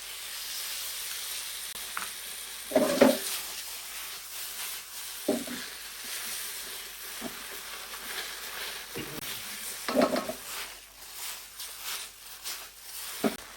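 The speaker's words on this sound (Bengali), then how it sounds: "তারপর সসগুলো আমি ঢেলে দিচ্ছি" Sauce poured into a hot pan of eggplant stir-fry gives a soft steady sizzle and hiss, with a few louder bursts of bubbling and spattering, fairly quiet and close, no talking.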